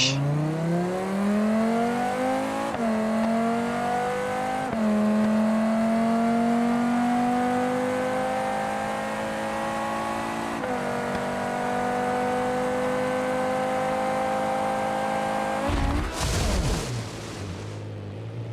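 A nitro engine in a Civetta, apparently a radio-controlled model, drones and revs loudly and continuously for a long stretch, its pitch rising gradually, then sputters and cuts out as the engine floods near the end.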